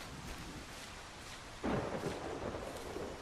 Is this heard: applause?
no